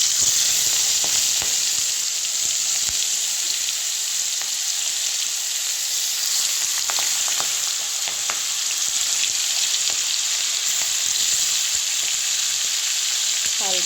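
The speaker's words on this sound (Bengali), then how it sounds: "এবার চিংড়ি মাছগুলি ছেড়ে দেব।" Prawns fry in hot oil in a wok for a Bengali prawn malai curry, giving a loud, continuous, close sizzle with occasional spatter and stirring sounds.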